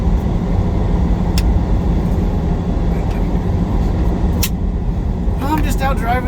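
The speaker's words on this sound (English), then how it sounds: "I'm just out driving through the Nevada desert right now on my way to Vegas to go deliver beer." A car cruises through the Nevada desert, its steady loud road and engine rumble filling the cabin without a break while someone talks over it.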